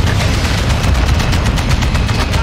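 Dense, continuous gunfire with rapid automatic bursts and heavy explosive booms from rockets and grenades in the Modern Warfare II video game, loud and unbroken throughout with no voices.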